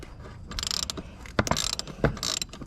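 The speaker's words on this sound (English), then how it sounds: "you want to take your ratchet and try and get it onto the wrench" A ratchet turns an oil filter wrench on a Honda Goldwing GL1800 during an oil change, with quick close bursts of sharp pawl clicking between a few heavier clunks, alone with no talk.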